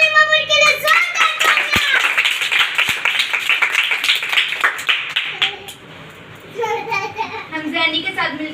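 A church congregation at a Thursday prayer meeting claps loudly and steadily for several seconds amid shouts and voices. The clapping thins out, and talk carries on over scattered claps.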